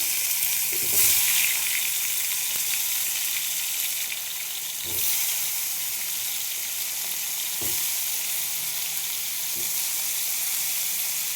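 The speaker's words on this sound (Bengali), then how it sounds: "একটু তেল দিয়ে দেবো, আলু পটল ভাজতে হবে।" Potatoes and pointed gourd fry in oil with cumin, sizzling loudly and continuously, with occasional knocks of stirring in the pan.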